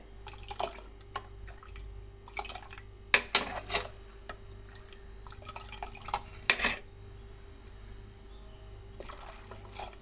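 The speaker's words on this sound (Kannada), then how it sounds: "ಸ್ವಲ್ಪ ನೀರನ್ನು ಸೇರಿಸ್ಬೇಕಾಗತ್ತೆ" Water poured into a pan of chickpea sambar masala, with wet splashes, drips and clinking metal utensils over a low steady hum, close and fairly quiet, with no talking.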